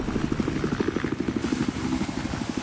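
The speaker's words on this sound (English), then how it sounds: "Gonna go engineer class and spawn on the helicopter." Helicopter rotor in the video game Battlefield 4, a steady rhythmic low chopping thrum with engine whine, loud and continuous throughout.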